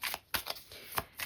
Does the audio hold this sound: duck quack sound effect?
no